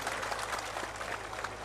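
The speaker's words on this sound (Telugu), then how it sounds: "అందరూ చప్పట్లు కొట్టాలి సార్ శాంక్షన్ చేస్తున్నారు." Audience clapping at a Telangana election rally, a short dense burst of applause from a crowd, steady and moderately loud throughout.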